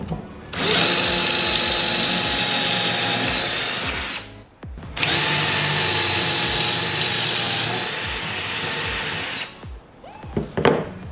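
Power drill boring pocket holes in wood, two long loud bursts of drilling, each several seconds, split by a short pause and followed by brief clatter.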